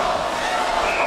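RPI home crowd at a men's ice hockey game against Dartmouth keeps up a loud chant after a goal, a dense sustained roar of voices in the arena.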